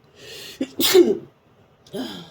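A single loud sneeze with a sharp inhale before it, followed by a short breathy sound.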